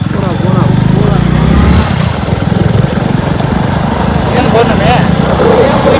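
A vehicle engine drones loudly and steadily as it climbs a hill road at Kanchanagiri hills on a full-moon night. Voices can be heard talking over the continuous, close engine noise.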